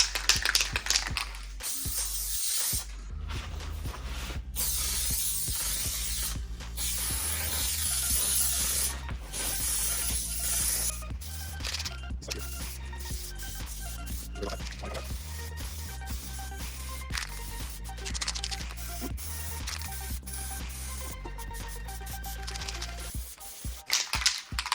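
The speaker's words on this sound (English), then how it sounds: "Test spray just for the direction." Spray paint hissing from a rattle can onto plastic water rockets, in repeated bursts with pauses between them, accompanied by clicks and handling noise from the can and rockets, fairly close with no talk.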